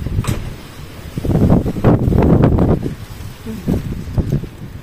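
Strong typhoon wind, around 110 kilometers per hour, roars and buffets in gusts against the microphone, a loud rumbling surge that swells and eases, close and without talk.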